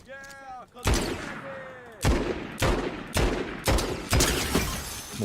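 Video game gunfire: a rapid string of about five loud, sharp shot bursts in close succession, after a short vocal exclamation at the start.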